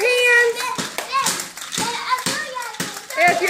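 Young children clap their hands to a song in a series of sharp, irregular claps, close and loud, mixed with kids' voices and singing.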